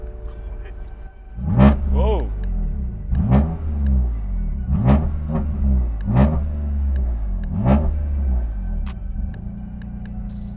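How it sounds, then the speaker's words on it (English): A car engine cranks and catches, then is revved hard about five times in a row, each rise and fall of the engine note close and loud, with a person briefly exclaiming. "So let's go ahead and turn the engine on."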